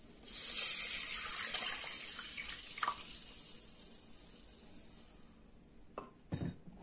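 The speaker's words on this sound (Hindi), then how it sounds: "अब डालेंगे हम इमली का पानी," Tamarind water poured into a cooking pan while making sweet chutney for a fruit chaat, a steady hissing splash that swells early, then thins into a trickle with a few small clinks near the end.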